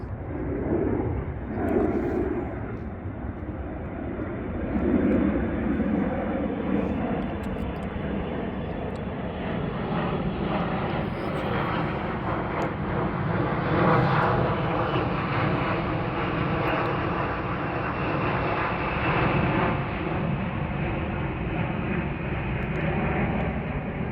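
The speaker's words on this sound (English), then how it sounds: "let me just let this plane pass real quick" An airplane passes overhead on an open hill in the Obispeño Chumash area, a steady, loud engine drone that swells slightly and lasts the whole stretch with no talk.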